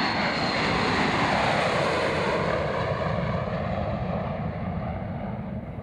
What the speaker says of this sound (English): the doors closed, and the plane departed for sunny Florida